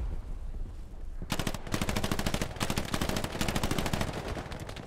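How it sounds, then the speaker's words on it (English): Rapid MG42 machine-gun fire in the World War II shooter Hell Let Loose, set in the Hürtgen Forest; after a quiet second, fast ripping bursts rattle on with brief gaps, loud and steady. "MG42 somewhere"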